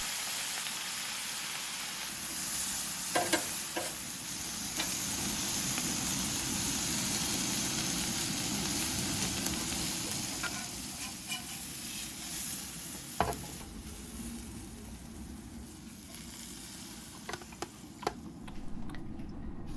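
Mixed vegetables seasoned with salt, pepper and soy sauce sizzle steadily on a hot hibachi-style griddle, with occasional scraping and tapping of a spatula against the metal surface, close and fairly loud, no talking.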